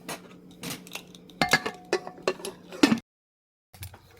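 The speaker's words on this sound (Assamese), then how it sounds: "এতিয়া মই কুকাৰৰ ঢাকনিখন বন্ধ কৰি লওঁ।" Metal pressure cooker lid being handled and closed, a series of close clanks and clinks of metal on metal, ending in a brief silence and a soft knock.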